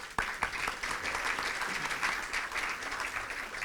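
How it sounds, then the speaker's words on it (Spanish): Steady applause from an indoor audience, many hands clapping continuously at moderate volume. "Un aplauso por ustedes por acompañarnos."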